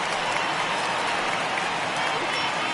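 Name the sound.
home crowd applauding a departing baseball pitcher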